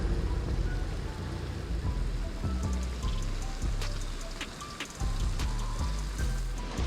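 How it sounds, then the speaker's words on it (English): Heavy rain falling during a fishing trip, a dense continuous patter of drops close by with scattered sharper splashes and taps throughout. "it's raining pretty hard"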